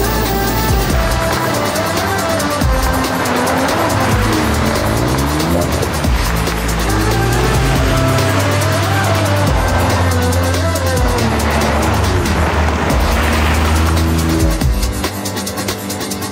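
A Hyundai Creta N Line driven fast on twisting Himalayan mountain roads gives a continuous loud engine roar that rises and falls with the gears, with tires squealing through the turns.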